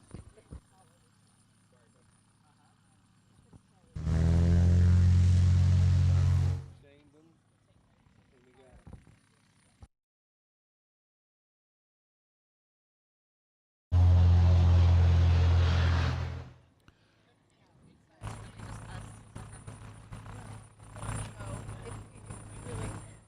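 A competition aircraft climbs out at a live contest event, its engine swelling into two loud, sustained droning passes separated by quiet, with a voice talking faintly in the gaps.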